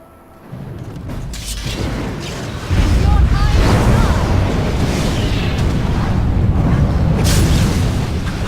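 Mages cast a fire spell in Dragon Age: Origins, setting off a loud, sustained roaring blast that swells at about three seconds and keeps rumbling thickly to the end.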